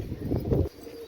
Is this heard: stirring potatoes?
no